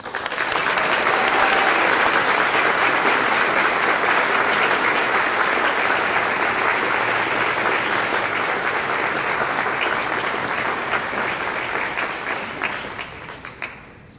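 A luncheon audience at an alumni homecoming gathering breaks into sustained, loud applause that holds steady for over ten seconds before tapering off near the end.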